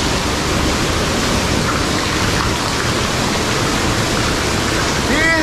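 Water rains down steadily inside the hot spring tunnel at Tolantongo, a loud, dense, continuous hiss of falling and splashing water close by, with no break throughout.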